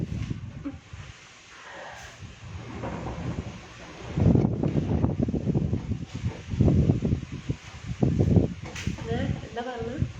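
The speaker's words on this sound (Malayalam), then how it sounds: "എന്തൊരു കാറ്റാണ് അടിക്കുന്നത്." Strong wind gusting outdoors, a steady broad roar that swells louder in the second half, with people talking over it throughout.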